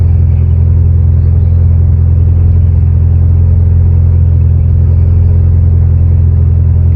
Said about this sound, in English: Oh yeah, that is a much smoother idle than it was before.